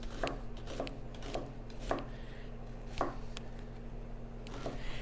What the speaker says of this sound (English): now we're going to take our purple onion. And you just want to cut it into small pieces